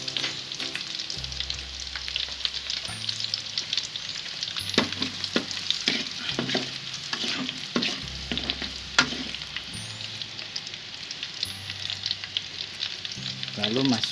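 Onions sizzle and fry in a pan for Acehnese keumamah asam sunti, stirred with repeated scraping strokes over a steady crackle, loud and close with no talking.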